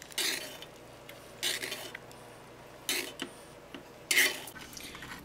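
A spoon basting a cote de boeuf steak in a pan: four or five separate bursts of sizzling spatter and metal scraping at irregular intervals, each loud and close, with quieter hiss between.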